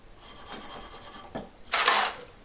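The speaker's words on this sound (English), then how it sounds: "That's just string polishing." String is drawn back and forth against a piece of jewellery to polish its inner edges, giving a soft, close rasping rub in short uneven strokes with a longer, louder stroke near the end. No one speaks.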